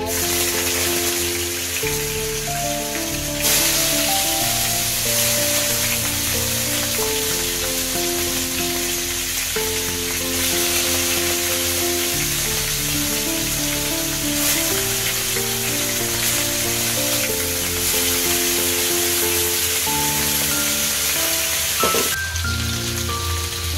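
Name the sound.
hilsa fish frying in hot mustard oil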